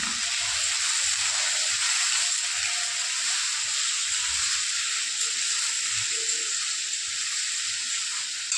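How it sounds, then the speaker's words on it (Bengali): Cut potatoes fry in hot oil in a pan, giving a continuous bright sizzle with occasional soft clinks and stirring knocks underneath. "প্রথমে আলুটাকে ভেজে নিচ্ছি।"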